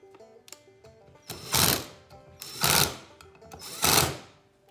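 A power tool tightens valve body bolts on a 46RE/47RE automatic transmission in three loud, rising bursts of whirring and rattling. Light clicks and handling noises come between them.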